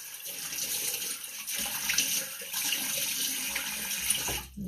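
Lukewarm water runs from a tap while someone washes their face, a steady close hiss with splashy fluctuations and a brief dip near the end.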